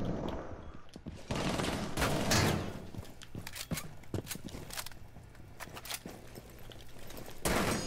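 Gunfire in a first-person shooter, bursts of rapid shots and single cracks scattered through the stretch, fairly close and loud over a busy game background with faint footstep-like thuds.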